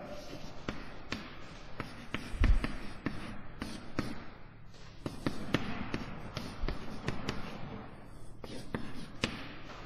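Chalk or marker writes on a board during a university lecture on contact mechanics and friction, giving repeated short taps and scratchy strokes against steady room noise, with a lecturer speaking quietly at times.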